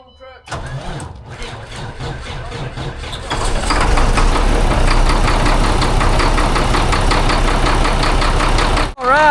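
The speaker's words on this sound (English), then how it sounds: "the old MP7 Mack engine is purring like a kitten" Mack truck with an MP7 diesel engine cranks briefly, then fires and settles into a loud, steady, rumbling idle with a rhythmic knock, heard close up and without talk.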